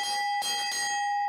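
A bell in a bar at Naval Air Station North Island rings loudly and close, its bright metallic tone struck in a few quick successive clangs that keep ringing on between strikes.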